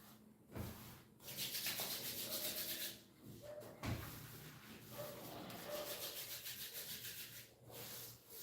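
Hands rubbing together briskly to warm them during a yoga class, a steady dry swishing friction repeated in several long strokes with brief pauses, close and fairly quiet, no talking.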